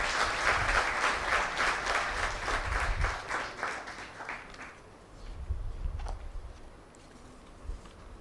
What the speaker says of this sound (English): let's give him a big round of applause for the achievement